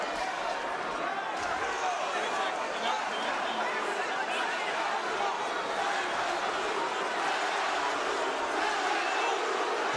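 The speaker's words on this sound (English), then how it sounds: "Crowd's cheering Santa Cruz." Dense arena crowd at a Barclays Center boxing title fight roars and chants steadily for Leo Santa Cruz against Carl Frampton, a loud continuous wash of cheering with rival contingents trying to drown each other out.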